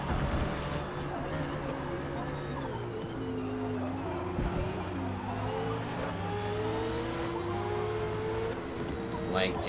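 A Ferrari 488 race car engine in Forza Motorsport at Hockenheim drones and revs steadily under throttle, with pitch shifts from gear changes and the faint sound of other cars.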